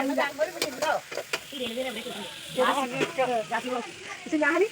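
Onions sautéing in a pan for chicken curry, a steady sizzle running beneath someone talking throughout.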